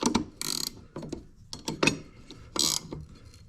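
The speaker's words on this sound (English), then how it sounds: "get the bolt, get your wrench" Ratcheting wrench tightening the blade bolt on an EGO Power Push cordless lawnmower: several short bursts of rapid metallic clicking, close and fairly loud, separated by brief pauses.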